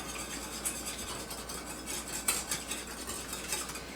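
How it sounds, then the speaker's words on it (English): Ingredients get whisked together in a bowl, a quiet, steady stream of light metallic scraping and tapping with faint clinks throughout. "we're just going to whisk these up a little bit, get them all mixed in together"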